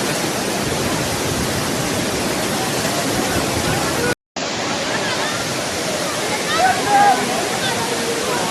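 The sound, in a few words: Manthoka waterfall falling water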